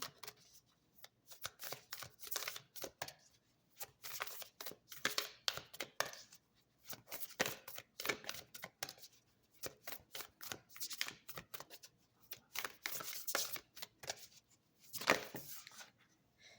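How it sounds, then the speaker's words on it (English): Tarot cards being shuffled in repeated riffling bursts, crisp papery rustles close by, with short pauses between rounds and no talking. "I always know when it takes a bit to shuffle that two cards are going to fall out at once."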